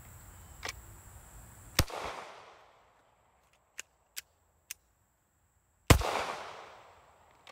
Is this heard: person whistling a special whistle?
no